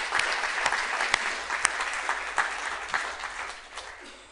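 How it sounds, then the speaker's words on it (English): Steady applause from an audience clapping for Leah at a church service, a dense, continuous patter of many hands with a few sharper individual claps standing out, fairly close and sustained throughout. "I'm going to clap for Leah."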